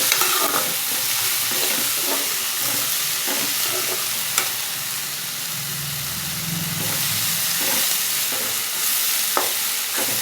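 Ingredients sizzle and sauté in a pan over the stove, a continuous close frying hiss with occasional stirring scrapes and clicks lasting the whole time, and no one speaking.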